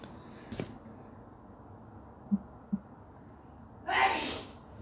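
A single sharp sneeze bursts out up close near the end, after a quiet stretch with a soft breath and two small clicks.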